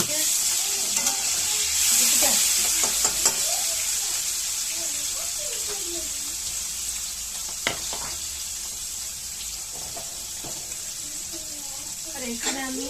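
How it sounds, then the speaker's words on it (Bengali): Fish sizzling as it fries in a pan at home, a steady bright hiss with occasional stirring clatters, heard under a person talking nearby. "এই যে মাছ ভাজা হচ্ছে"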